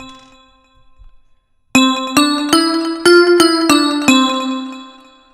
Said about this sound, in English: what sounds really good in trap is like bell sounds